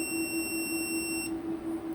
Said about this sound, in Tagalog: So, nagbi-beep din siya mga idol.